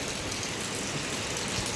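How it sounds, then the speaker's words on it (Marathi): Continuous hiss of rain falling steadily, a dense even wash of sound with no voices. "आज खूप दिवसातून यांच्याकडं पाऊस झालेला आहे हे बघा"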